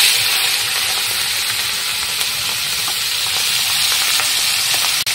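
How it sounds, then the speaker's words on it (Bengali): Prawns frying in hot oil in a wok give a loud, steady sizzle and crackle with a few sharp pops, continuous and close with no voices. "কড়াইতে তেল দিয়ে দিয়েছি, তেলটা গরম হয়ে গেছে। এখন এই চিংড়ি মাছগুলো আগে ভেজে নেব।"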